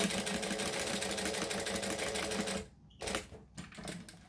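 A sewing machine stitches along an outer edge without backstitching, a close, fast rhythmic whirr that runs steadily before stopping, followed by a few short bursts and handling noises.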